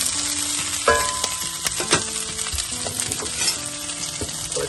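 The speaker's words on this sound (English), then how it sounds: "I'm just gonna coat these with the oil, put in a little bit of olive oil in there." Brussels sprouts sizzle in olive oil in a hot cast iron skillet, with steady close frying crackle and a few metallic clinks of the pan and utensil stirring.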